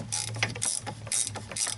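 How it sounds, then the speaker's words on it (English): Ratchet gear wrench turning a bolt on a 2000 Chrysler 300M during suspension work, a quick series of close, crisp clicking ratchet strokes in uneven rhythm. "Just gonna put the gear wrench side on"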